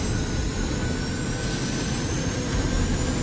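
Jet airliner engines during takeoff roar in a loud, steady, broadband rush with a faint high whine above it, continuous and close, with no voices.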